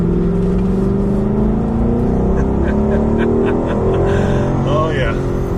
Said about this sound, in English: Oh yeah, I like that booming V8